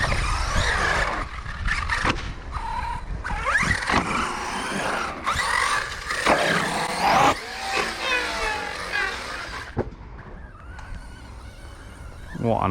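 An Arrma Notorious 6S RC car tears around a skate park, its electric motor whining and buzzing in repeated bursts as it accelerates and spins, with wheel scrubs and clatter between runs, loud and close.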